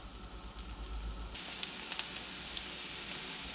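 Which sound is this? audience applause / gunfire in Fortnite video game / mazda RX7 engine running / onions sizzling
onions sizzling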